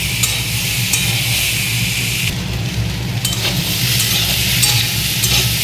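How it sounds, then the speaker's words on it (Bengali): Elephant foot yam is stir-fried in a pan, with a loud continuous sizzle and repeated scraping strokes of a spatula against the pan close by. "ওল একটু ভালো করে কষতে হয়, কষলে টেস্ট হয় ভালো"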